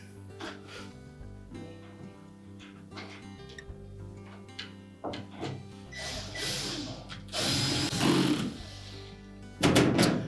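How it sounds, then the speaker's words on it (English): Screws being driven and tightened into a dryer door hinge on a Whirlpool dryer: a run of close, dry clicks and short ratcheting bursts with a few louder scraping turns near the end, no talk. "Install the remaining screws and tighten them securely."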